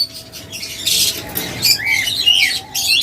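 A pair of red-eye lutino Fischer's lovebirds gives repeated sharp squawks and chirps, close and fairly loud, in bursts against a steady low background hum.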